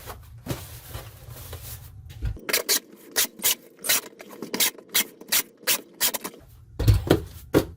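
Packing tape is pulled and pressed down across the lids of a USPS No. 4 shipping box filled with peanuts, giving a run of short, close rasping strips in an uneven rhythm with no talk.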